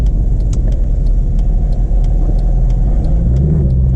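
Mercedes C63 AMG cruising on the road, its exhaust a loud, continuous low rumble heard from inside the car, steady with slight swells and no talking.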